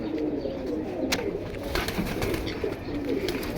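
A pair of pigeons cooing in a cage, soft repeated low coos over a steady hiss of background noise, close by and without talking.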